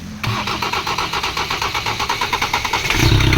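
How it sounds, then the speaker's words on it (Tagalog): A 2024 Ford Ranger with a 2.0 engine and a wet timing belt is cranked with a steady, rapid starter rhythm for almost three seconds, then catches and settles into a louder, rough idle. The sound is close and alone. "Okay, engine crank!"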